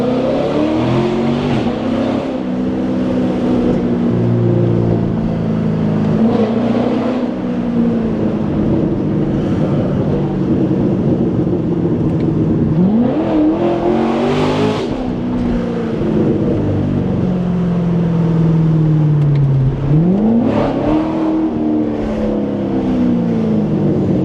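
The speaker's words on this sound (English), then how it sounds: "Quite a lot of noise and quite a lot of speed as well." A car drives at speed on Miami streets at night, its engine repeatedly revving up through the gears with rising pitch sweeps and drops at each shift, loud and close from inside, with no talking.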